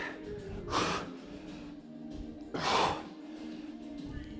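Two heavy, forceful breaths after a workout exercise, a couple of seconds apart, near and audible over a low background hum.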